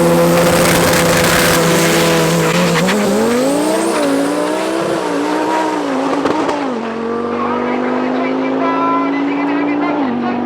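A drag-racing car with a broken fifth gear runs a pass at Tarlton International Raceway. The engine drones loudly and rises in pitch through the gears, with a sustained roar that later drops to a steady tone. A voice talks over it.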